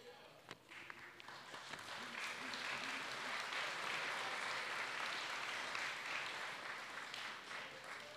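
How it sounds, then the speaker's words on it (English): Audience applause at an apprentice school graduation ceremony swells after a few scattered claps into a sustained, fairly distant wash of many hands, steady for several seconds before easing slightly. "Thank you for that round of applause."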